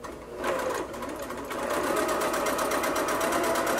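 A sewing machine runs steadily, stitching marine grade vinyl for a see-through face mask with a quarter inch seam allowance, its fast needle chatter close and continuous, speeding up slightly after a brief start.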